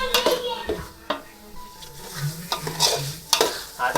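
Mutton sizzles in hot oil tempering in a pot while a spoon stirs it, with scraping clinks and bursts of frying that rise and fall over about four seconds. Faint voices sit in the background.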